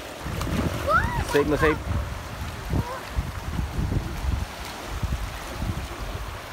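Choppy water of the Palupyas River rushes and splashes in a steady broadband wash, with someone talking over it near the start.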